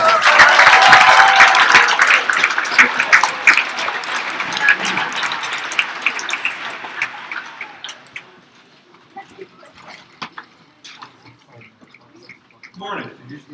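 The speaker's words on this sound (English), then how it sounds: "please help me welcome family man, congressional candidate, and veteran, Larry Berlinski. Give him a big hand." Loud audience applause welcoming a congressional candidate and veteran at an event, a dense clapping crowd that starts strong and gradually thins and fades over about ten seconds, ending in a few scattered claps.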